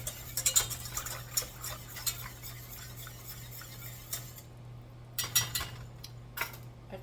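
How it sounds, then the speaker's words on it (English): A spoon scrapes and clicks against a bowl while stirring a buffalo cauliflower mixture, light irregular ticks spread through the clip and clustered near the start and end, close and fairly quiet. "Stir that around."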